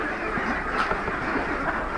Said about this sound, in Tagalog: At ito na po yung aura ng itik na inaalagaan natin dito.